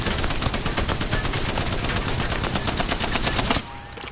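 Rapid, sustained automatic fire from a Spitfire machine gun in a video game, a dense unbroken stream of shots for several seconds that cuts off abruptly at the end.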